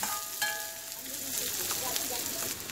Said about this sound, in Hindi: अब तेल गर्म हो चुका है हमारा, हम इसमें डालेंगे कांदा कटा हुआ, कांदे को हल्का ब्राउन होने देंगे।